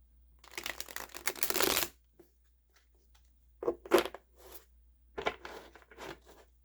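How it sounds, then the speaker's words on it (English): Large tarot cards are riffle shuffled, giving a close, crisp burst of rapid flutter followed by a few shorter riffles and bridging snaps. "And then I'll try to do a riffle shuffle."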